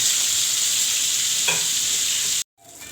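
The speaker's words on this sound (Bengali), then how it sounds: "ডিমা চিংড়ি ভাজা হচ্ছে" Roe-bearing prawns fry in hot oil in a pan, giving a loud, steady, close hiss with one brief stirring scrape. The sound cuts out abruptly near the end, then returns more faintly.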